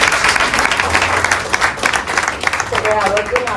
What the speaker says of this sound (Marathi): एकदा जोरदार टाळ्या शशी